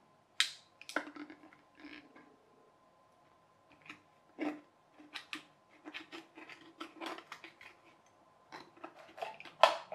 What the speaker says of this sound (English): this one, we are just going to cut with a knife